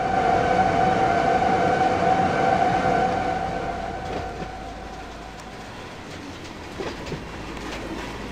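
A BNSF freight train in the Run 8 train simulator pulls its cars forward with a steady locomotive drone and metallic rail rumble, the tone easing midway and followed by occasional clanks.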